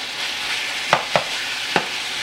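Venison and onions sauté in a pan with a continuous bright sizzle, broken by three quick scraping stirs from a utensil; no one speaks.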